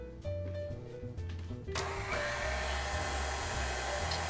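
Electric mixer beating sugar cookie dough in a home kitchen, a steady motor whine that jumps to a louder, higher, harsher buzz partway through and keeps running alone.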